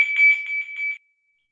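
Workout timer beeping, a loud, close electronic tone pulsing rapidly for about a second and then cutting off into silence.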